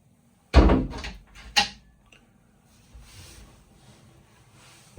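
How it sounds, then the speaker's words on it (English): Wooden hanging locker door on a sailboat under refit, serving as a partition between the heads and fore cabin, thumps shut twice in quick succession, close and fairly loud, then a quiet rattling tail. "hanging locker door"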